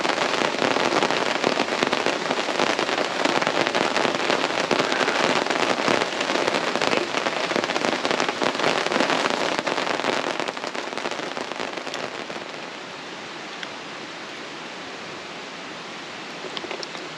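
Rain pours down onto a camp awning in a dense, steady patter with crackling drop impacts, close and loud at first, then easing off somewhat toward the end.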